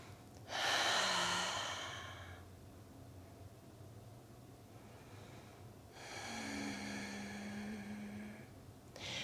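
Slow, deep breaths during a yoga stretch, two long audible inhale-exhale cycles close to the mic with quiet pauses between them.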